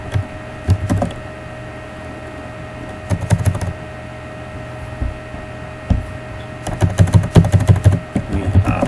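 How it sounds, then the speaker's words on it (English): Computer keyboard typing in bursts of clicky keystrokes, near and moderately loud, with quiet pauses between runs over a steady low hum. "you can type about your services here"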